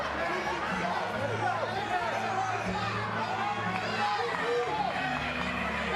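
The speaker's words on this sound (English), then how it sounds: "Crowd trying to rally behind Catherine Roy" An arena crowd at a women's MMA bout, a steady roar of chatter and cheering that stays loud and continuous, with a commentator talking over it.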